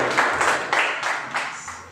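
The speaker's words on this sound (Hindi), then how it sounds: "पास्टर छगन का ताली बजा के हम स्वागत करें" Church congregation at a Sunday evening service clapping to welcome the pastor, a steady run of bright hand claps in repeated pulses, fairly close and alone without talk.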